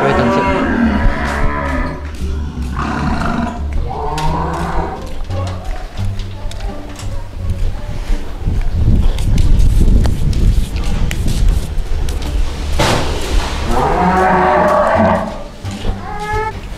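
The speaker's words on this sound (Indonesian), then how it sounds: "sapi yang ketiga sudah turun" Cattle moo loudly in long bellows as cows are unloaded from a truck, with hoof thuds, clattering and people talking over the calls.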